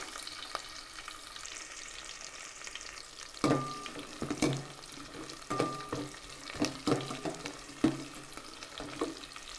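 Small onions fry in garlic kuzhambu with a quiet sizzle, then rhythmic stirring scrapes and taps of a spoon against the pan begin partway through, close and fairly soft, no talking.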